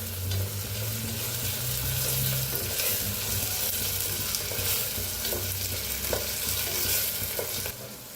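Onion and tomato frying in a pan for a potato recipe, a steady close sizzle with stirring scrapes running throughout, no voices.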